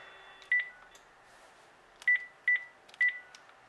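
Panasonic KX-TG4011 DECT 6.0 cordless phone dialing: one short tone, a long gap, then three more DTMF beeps in quick succession, clean and fairly loud against a quiet background hum.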